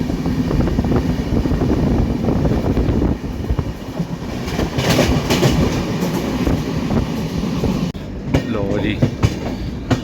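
A train rumbling steadily along the rails, loud and close, with a rhythmic clatter and a brief dip in the noise near the end, as it reaches Manwal station.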